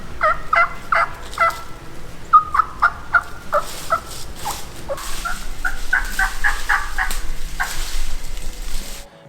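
A hunter's turkey mouth call imitates a feeding flock in timber, giving a run of clucks, purrs and rhythmic yelps in uneven clusters, close and fairly loud over quiet background.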